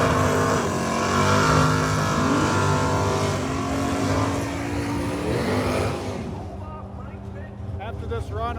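A 4000HP race car makes a test run, its engine roaring loud and sustained with shifting pitch, then easing off and fading into a quieter rumble near the end.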